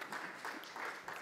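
An audience claps at an award ceremony, a faint, steady patter of applause heard from a distance and fairly low in level.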